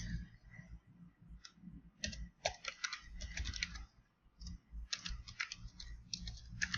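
Someone entering an email address on a computer keyboard, with bursts of quiet, close key clicks in uneven runs and brief pauses between them.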